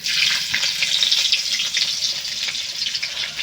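Chopped onion hitting hot oil in a pan for a Bengali rui fish curry, giving a steady, loud hiss and crackle of frying that holds evenly throughout without any talking.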